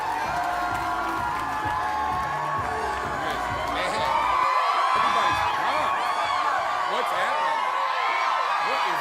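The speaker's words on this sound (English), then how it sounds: "give a round of applause for Mr." A live crowd at a party training event cheers, whoops and applauds for a speaker being welcomed on stage, with a dense, sustained roar of voices and clapping that swells louder midway and keeps going.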